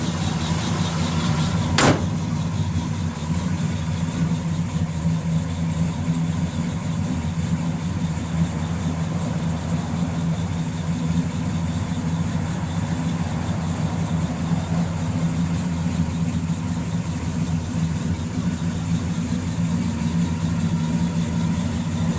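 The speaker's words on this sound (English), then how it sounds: "Fires right up. That's a period correct 396." A 1966 Chevrolet Chevelle SS 396 convertible with a period-correct 396 V8, aluminum intake, mild cam and dual exhaust idles steadily with a deep, even rumble, close and continuous throughout, with one sharp click early on.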